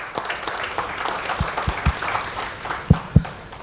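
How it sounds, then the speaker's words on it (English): A round of applause from the audience at a human rights summit, a continuous patter of many hands clapping with a few louder sharp claps standing out, moderately near. "a round of applause."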